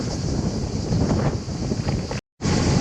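Strong headwind roaring across a road cyclist's microphone in a valley, a steady loud buffeting rush with a brief dropout near the end.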